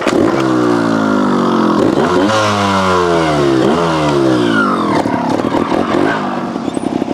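A 2023 GasGas TXT Racing trial motorcycle is ridden up close, its engine revving repeatedly in rising and falling bursts with loud, continuous throttle changes.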